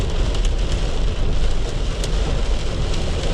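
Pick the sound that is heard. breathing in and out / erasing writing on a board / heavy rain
heavy rain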